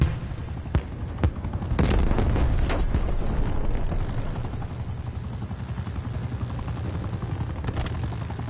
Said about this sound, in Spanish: Oye, ya tenemos helicóptero.